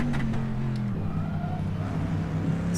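Corvette C7.R V8 in a simulated Sebring race, a moderately loud engine note that steps down in pitch after a second, then holds a steady lower drone, with no talking.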